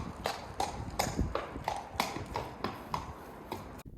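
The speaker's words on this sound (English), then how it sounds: "So Amy, who's our first horse that we're looking at down here?" Horse hooves clip-clop steadily across a hard yard surface at a dressage training yard, about a dozen evenly spaced strikes at walking pace, close and clear, with no talk over them.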